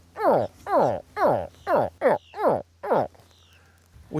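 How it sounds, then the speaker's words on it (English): Baby alligator distress calls, a series of seven or eight loud, sharp, descending grunting chirps in a steady rhythm, close by, with a faint low hum beneath. "And that sound is a baby alligator in stress."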